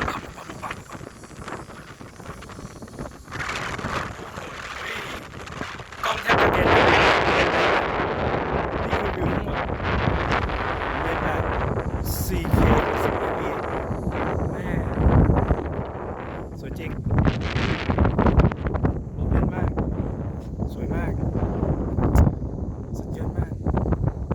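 Strong wind at the Phu Thap Boek viewpoint buffets the microphone with loud, gusty roaring that rises after the first few seconds, while someone keeps talking throughout.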